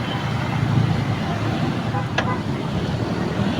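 A motorcycle pulls in nearby. Its engine rumbles amid ongoing road traffic noise, with one sharp click partway through.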